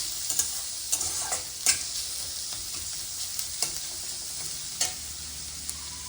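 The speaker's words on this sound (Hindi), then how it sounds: "प्याज को फ्राई करना है, हल्का हल्का लाल होने तक फ्राई करना है" Chopped onions fry and sizzle in a pan for paneer masala, a steady bright hiss with occasional soft clinks and stirring scrapes of a spoon, no talk.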